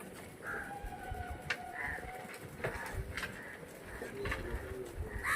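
Pigeons, a male and a female, coo softly in a few low, rounded bursts. Scattered clicks and shuffles come through a steady background hiss, and no one speaks.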